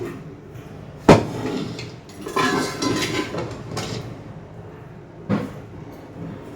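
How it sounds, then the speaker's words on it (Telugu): A man sits fitting a lid onto a tin container, giving a sharp metallic clank followed by softer scraping and rattling contacts, then another distinct knock near the end, close and moderately loud. "అక్కడ డబ్బా మూత సెట్ చేస్తున్నాడు అనమాట"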